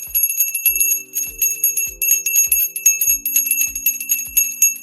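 A bell struck repeatedly in a steady rhythm, each ring leaving a bright, shimmering tone that decays into the next strike, loud and close with no talking.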